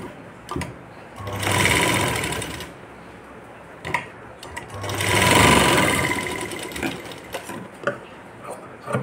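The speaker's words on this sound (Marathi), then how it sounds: "हे पहा, असं शिवून घेतलं आहे मी." A sewing machine stitches a tassel (latkan) design on a blouse, running close by in two sustained bursts separated by pauses filled with small clicks and handling noises.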